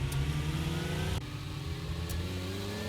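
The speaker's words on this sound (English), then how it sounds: "I immediately regretted my decision to switch to the muscle car because it sounded like ass" A muscle car engine in the 7 Days to Die video game revs steadily with a rough, buzzing mid-range drone, dropping slightly in intensity midway, with no talk over it.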